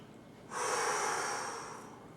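A single long, close inhale during a wide squat exercise, a steady breathy rush of air lasting well over a second before it gradually fades.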